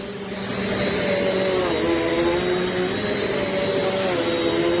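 Close and loud, a Eureka Airspeed bagless upright vacuum cleaner spins up on carpet and holds a steady whirring drone, its motor pitch dipping slightly as it is pushed back and forth.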